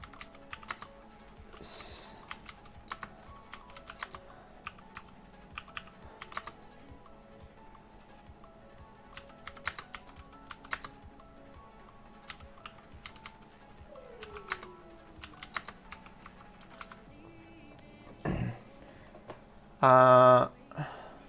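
Typing on a computer keyboard, with many light, irregular key clicks close by, some brief quiet gaps and a louder burst of sound near the end.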